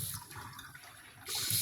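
Hot water runs from a tap beside a home water heater, a brief, steady splashing rush close to the microphone that grows louder and brighter toward the end. No voices.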